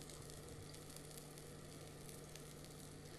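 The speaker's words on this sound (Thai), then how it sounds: "พอเห็นว่ากระทะร้อนนะคะเราก็นำปลาทูน่าลงไปเลย" Tuna sizzles and fries steadily in a hot pan, a dense, even crackle with no voices, recorded quietly.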